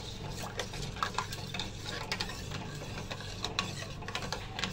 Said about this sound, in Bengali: দুধের সাথে আমি চিনি আর একটু কর্নফ্লাওয়ার দিয়েছি, দিয়ে এটাকে নাড়াচাড়া করে নিচ্ছি